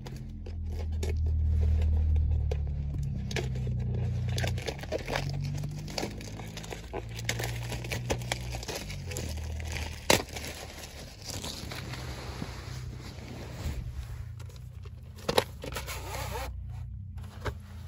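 Packaging on a 1990 film VHS tape is unwrapped up close, with loud crinkling, tearing and rustling scrapes followed by scattered sharp clicks and handling noises.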